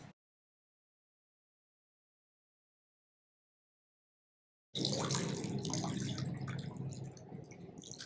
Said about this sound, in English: we're going to very carefully strain our soup through the sieve